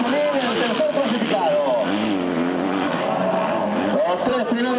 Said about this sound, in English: Interesting when we have these onboard cameras, how the bikes rev